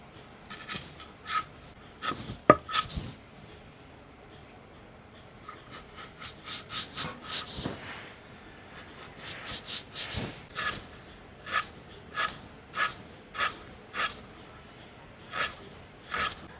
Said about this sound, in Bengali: প্রথমে থোড়টা কেটে নেব।